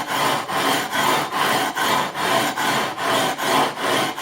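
Guitar frets on an Epiphone Sheraton II Pro are sanded with 240 grit sandpaper, a close, loud rhythmic rasping of about ten even back-and-forth strokes with short pauses between them.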